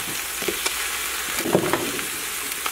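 Washed leeks drop into a pot of melted butter with the heat turned off and sizzle steadily, a soft, continuous frying hiss with a few light clicks of stirring, close by and with no voices.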